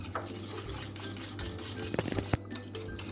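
Flour, lemon juice and water being stirred together in a mixing bowl for a chicken stew. Soft, faint stirring sits over a low kitchen hum, with a short cluster of spoon clinks near the end.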